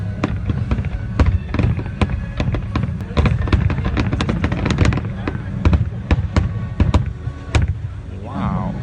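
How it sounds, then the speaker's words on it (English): A fireworks display at Versailles sends out a dense, steady run of sharp cracks and booms, some near and loud, others fainter, over a constant low rumble. "Fireworks done."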